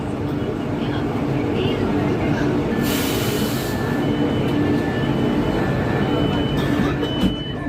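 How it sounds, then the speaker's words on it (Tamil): Chennai metro train slowing to a stop at Nehru Park station, a steady loud rumble of the carriage with a brief hiss of air partway through and faint tonal whine above. "அடுத்ததா ட்ரெயின் இப்போ நிற்கிறது தாங்க நேரு பூங்கா மெட்ரோ ஸ்டேஷன்."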